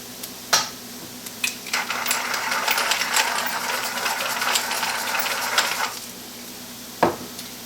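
Chicken sautés in a pan for chicken parm subs, a steady close sizzle with a stirring texture and occasional sharp clinks of a utensil against the pan, no voices.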